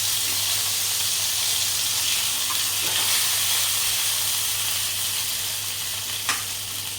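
A semolina sandwich frying in hot oil with sesame seeds and coriander gives a loud, continuous hissing sizzle that holds evenly throughout, with one brief crackle late on and no one speaking.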